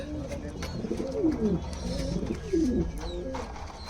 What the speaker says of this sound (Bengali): এই যে কবুতরগুলো